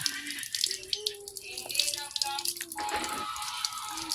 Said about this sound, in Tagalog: Nakbuksan mo daw yung gripo